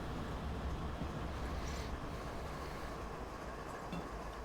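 Freight train rolling steadily through a simulated Marias Pass run with log cars, a continuous low rumble and wheel noise, moderately distant and even throughout, with no talking.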